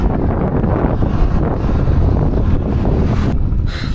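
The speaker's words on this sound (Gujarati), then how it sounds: "સામેથી હવા બહુ જ આવે છે." Strong headwind while cycling along the seashore near Porbandar: a steady, loud roar of wind buffeting the microphone, continuous and unbroken for the whole stretch, with no talking.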